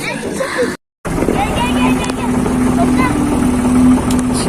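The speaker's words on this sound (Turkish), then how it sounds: "Şimdi traktörü çevirecek." A tractor engine rumbles nearby as it turns around in a narrow village spot, its steady drone cut by one brief gap, while people talk over it.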